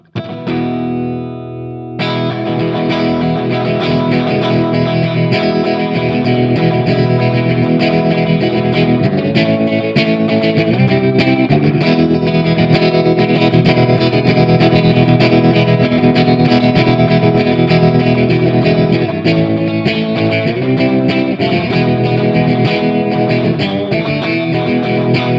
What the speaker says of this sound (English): the last one is tremolo. Let's just wind that round, kick that in